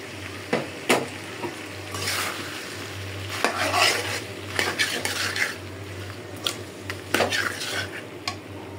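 Duck meat fries with ginger, garlic and cumin paste in a pan, a steady sizzle under repeated metal spatula scrapes and knocks against the pot, close and clear.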